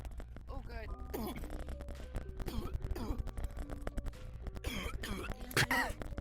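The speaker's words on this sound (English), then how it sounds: "The way you're coughing and choking." A person coughs and chokes repeatedly in harsh, irregular bursts, with other people talking and laughing around them throughout.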